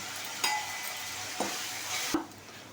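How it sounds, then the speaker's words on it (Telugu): Ginger paste and curry leaves fry in a pan with a continuous soft sizzle, broken by a few brief utensil knocks against the metal. "వన్ స్పూన్ అల్లం పేస్ట్ యాడ్ చేసుకుని ఫ్రై చేసుకోవాలి మొత్తం"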